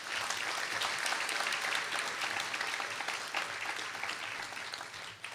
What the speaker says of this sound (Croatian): molim vas da ih ohrabrite sve zajedno jednim velikim